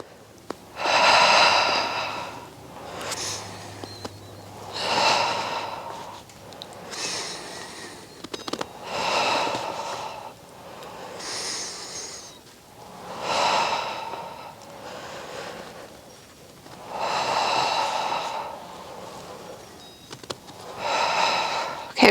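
During a Pilates reformer workout, a person breathes audibly through repeated slow cycles of forceful exhales and inhales, close to the microphone and in a steady rhythm.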